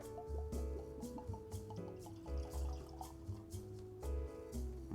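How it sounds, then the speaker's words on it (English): New Riff single barrel whiskey is poured into a glass, faint liquid trickles and drips under a repeating musical background with soft thumps. "let's get the Nightmare Before Riffmas pour first"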